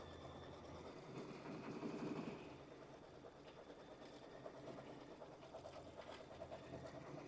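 A sewing machine running steadily at a quilting and embroidery event, stitching background quilting through fabric and cushioning batting, a continuous mechanical hum that swells briefly early on and carries on alone.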